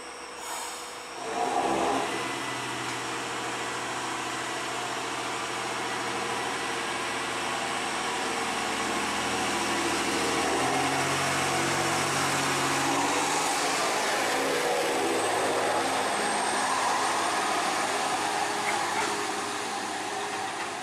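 A JR Hokkaido H100 diesel railcar revs its engine as it pulls out of Toya Station in Hokkaido, a loud, steady mechanical roar that holds for the whole stretch, close by and with no voices.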